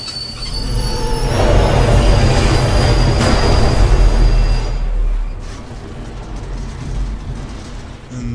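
A train in the video game Husk rolls loudly along its rails with a steady heavy rumble and high squealing wheels, easing off partway through and continuing at a lower, steadier level.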